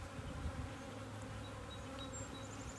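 A dense, steady hum of many honeybees buzzing at an open beehive during an inspection, close and continuous with a few individual bees whining past.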